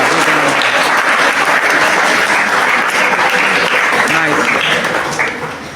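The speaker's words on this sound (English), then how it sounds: "give him a big round of applause" Loud, dense clapping from an audience at a school talk on responsible social media use, sustained and close, tapering slightly at the very end.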